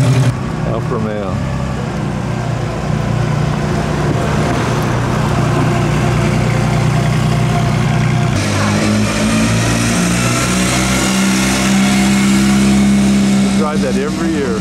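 Alfa Romeo car at the Mille Miglia classic road rally, its mid-pitched engine idling and rumbling steadily close by for the whole stretch, with a slight rise in pitch partway through and voices talking over it.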